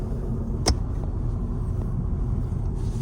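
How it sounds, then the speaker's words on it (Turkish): Steady low road rumble fills the cabin of a new Honda Civic Sport 2.0L while driving, with a single brief click partway through and no talking. "Sadece yol sesi çok alıyor arabaya değil mi?"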